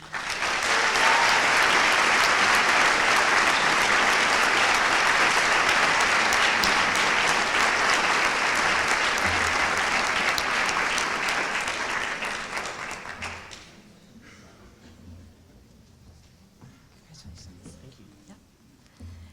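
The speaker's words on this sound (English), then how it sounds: "Another round of applause." An auditorium crowd at a high school senior honors convocation breaks into loud, full applause that holds strong for several seconds, then quickly dies away into a quiet room with faint murmurs.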